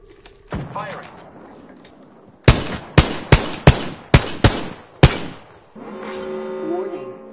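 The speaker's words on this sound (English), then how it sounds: "Hostile over there. Firing." Loud, close gunfire in the battle-royale shooter Apex Legends: seven sharp, evenly spaced shots crack one after another, with quieter game sounds and a short voice around them.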